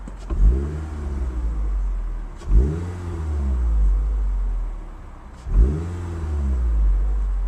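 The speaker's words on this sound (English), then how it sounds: "it's as though they put a sport exhaust on this car, and it's got a little bit lower exhaust note" A 2011 Scion tC with a sport-style exhaust blips its throttle three times in an even rhythm, each rev rising sharply then settling into a deep, throaty exhaust rumble at idle.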